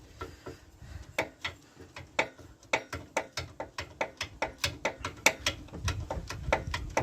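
A ratchet clicks steadily while tightening the caliper slide bolts on a Rover 75's brakes, a rapid run of close, crisp ticks that speeds up toward the end.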